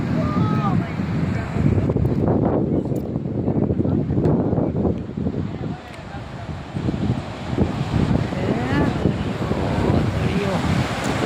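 Wind blowing across open sandy ground near a windmill and temple on the Uncha Kotda side, a rough, gusting roar buffeting the microphone while people talk.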